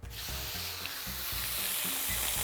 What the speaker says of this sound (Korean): 예열된 팬에 차돌부터 구워줄게요.